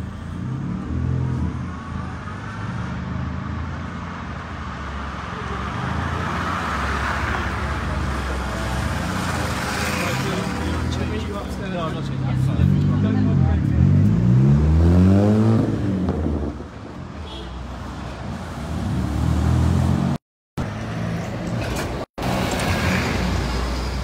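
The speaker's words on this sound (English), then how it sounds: "we just saw a car go up a one-way street and nearly hit a bus" Busy town street traffic rumbles steadily nearby as cars pass and a vehicle revs and accelerates loudly close to a bus on a one-way street, with the noise briefly cutting out near the end.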